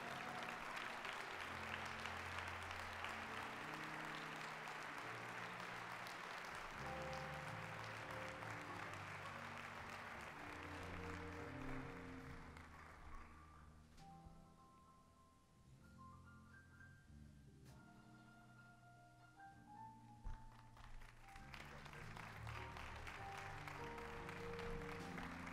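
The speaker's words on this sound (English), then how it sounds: "Please give her a huge round of applause for Mr." An audience at a live event applauds for Wayne Wilson, the clapping fading under music with sustained tones and a melody that dips mid-way and swells again.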